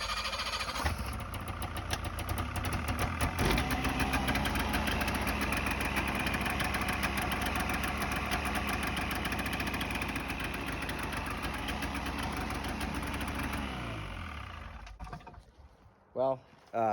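A vehicle engine idles steadily after a cracked exhaust manifold has been welded, a continuous mid-pitched running drone held at even loudness before it fades and cuts off near the end.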